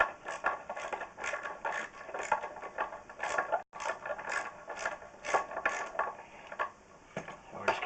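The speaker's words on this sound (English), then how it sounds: "just put on your 9/16 socket and just twist" A ratchet turning a 9/16 socket on a Moen 1423 cartridge removal tool to pull a stuck faucet cartridge, a close, steady run of rapid pawl clicks with a brief pause midway, no talking.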